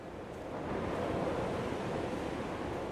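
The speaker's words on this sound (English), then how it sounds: "The howling wind's scary." Wind howls steadily over the sea on a shipwreck coast in Dear Esther, a broad, continuous rushing roar mixed with surf that rises slightly and holds at a constant level with no talk.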